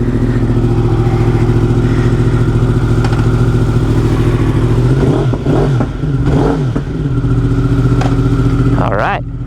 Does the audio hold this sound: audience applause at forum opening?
no